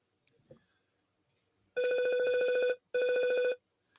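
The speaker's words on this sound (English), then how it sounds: "I think it's for Lubie, that phone call" A telephone ringing in a radio studio, two electronic rings in quick succession, loud and close after a brief near-silence.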